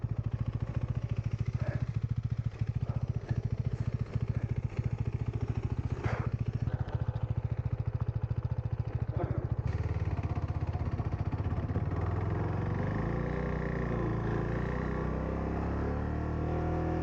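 Off-road motorcycle riding through deep sand, the engine droning loudly and steadily throughout with uneven revving as the rear wheel loses grip, close to the microphone.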